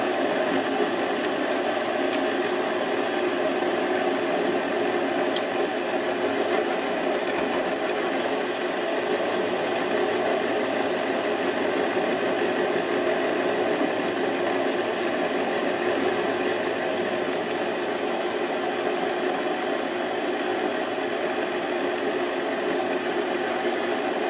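A mini lathe runs steadily while parting off a grade 8 steel bolt, giving a continuous motor whine and cutting hum throughout with no talk.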